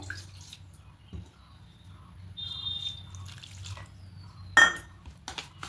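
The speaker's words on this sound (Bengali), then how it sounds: "আমি দইয়ের বাটির মধ্যে দিয়ে জলটা দিয়ে দেবো।" Water is poured into a bowl of yogurt in a home kitchen, heard as a faint trickle with light clinks of a bowl and utensil over a low room hum, including one sharper knock.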